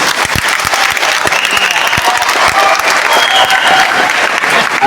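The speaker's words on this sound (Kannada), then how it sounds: "ಮಹಿಳೆಯರು ಇನ್ನೊಂದ್ಸರಿ ಚಪ್ಪಾಳೆ ನೋಡಿ" Loud, dense crowd applause at the Sharana culture festival in Chitradurga, sustained clapping from many hands close by, filling the whole stretch without letup.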